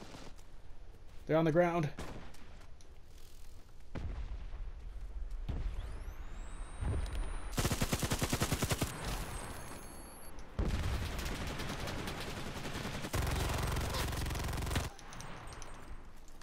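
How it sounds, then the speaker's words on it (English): Bursts of automatic gunfire in a multiplayer shooter game, loud sustained volleys separated by short pauses, with a player talking briefly over the action. "they're shooting at the last remaining guy"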